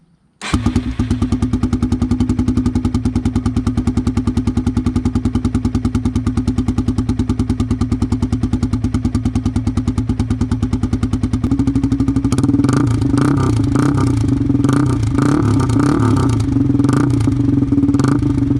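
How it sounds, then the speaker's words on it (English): A 2021 Yamaha TW200 with its exhaust baffle removed starts up and settles into a loud, steady, thumping idle, then rises into sharper revs near the end, close and alone with no talk. "I'm gonna put my helmet on and turn on the bike, let the bike warm up a bit."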